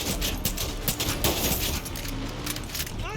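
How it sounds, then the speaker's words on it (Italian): Rapid gunshots fired at car tyres in the video game Far Cry 6, a quick string of sharp cracks over noisy in-game background sound. "Aspetta, sparo alle ruote."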